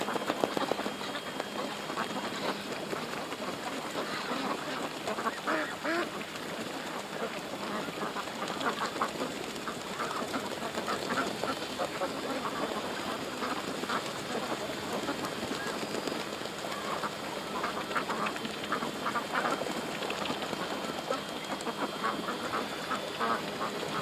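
A flock of ducks quacks continuously just a few feet below, a dense, busy chatter of overlapping calls against steady background noise, faint and fairly distant-sounding.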